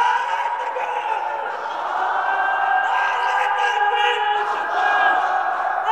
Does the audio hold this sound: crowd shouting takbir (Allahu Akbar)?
yes